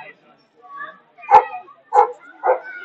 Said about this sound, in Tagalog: Grabe ang aso, no?